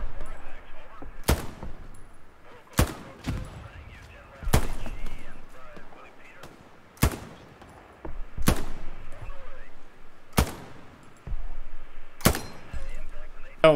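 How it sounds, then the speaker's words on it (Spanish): Sharp rifle shots in the World War II shooter Hell Let Loose on an Omaha beachhead map, single loud cracks spaced a second or two apart over distant battle noise, with players talking over radio. "Están llegando disparos"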